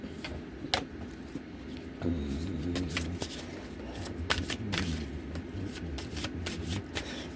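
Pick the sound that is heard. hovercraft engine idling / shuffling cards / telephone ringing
shuffling cards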